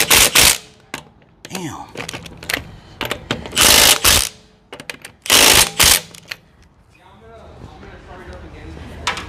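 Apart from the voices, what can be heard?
Milwaukee cordless impact wrench on a tough fastener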